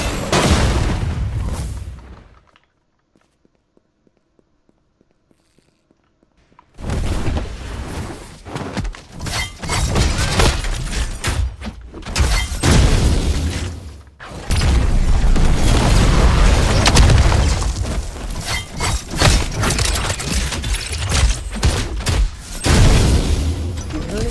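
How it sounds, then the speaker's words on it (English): A laser cannon fires in a video game, with loud booming, shattering blasts and crashes in dense bursts after a brief near-silent gap early on. "I shot my laser cannon."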